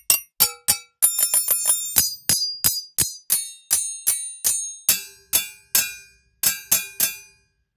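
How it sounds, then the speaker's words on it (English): Bike bell sounds from a trailer percussion sample library ring out in a rapid series of bright, metallic dings, some quickly repeated in clusters and others spaced apart, each decaying briefly into silence. "Sounds like a bike bell."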